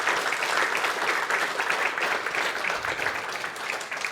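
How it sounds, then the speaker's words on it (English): An audience at a Q&A session on guns gives another round of applause, a steady, even wash of many hands clapping throughout, moderately loud and without talk. "So how about another round of applause?"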